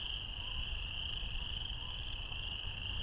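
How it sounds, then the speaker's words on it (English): A dense, continuous chorus of high trilling frog calls drones steadily at a distance at Barr Lake, unbroken throughout. "That's a lot of frogs."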